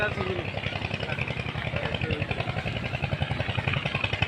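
A small power-tiller-type engine drives a sand-dredging trawler boat on a river, chugging in a fast, steady, close thumping rhythm with clattering overtones that continue without a break.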